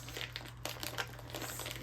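Plastic snack packaging crinkling as it is opened, a steady faint rustle and crackle with a few sharper crinkles throughout, close by and quiet, with no talking.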